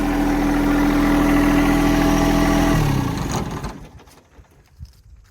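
A loud, steady John Deere 2025R compact tractor engine idles with a deep rumble for about three seconds, then cuts off and winds down, leaving faint clunks and quiet.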